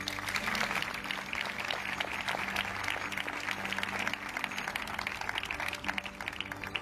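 Audience applause at an awards ceremony following a youth choir's performance, a steady wash of clapping from a large crowd, moderately distant and sustained throughout.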